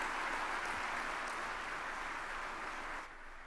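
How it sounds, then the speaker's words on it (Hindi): Applause greeting India's Prime Minister at the inauguration of the Pragati Maidan Integrated Transit Corridor, a steady broadband clapping from a large crowd that holds level for about three seconds and then drops slightly in strength. "जोरदार तालियों से स्वागत माननीय प्रधानमंत्री जी का।"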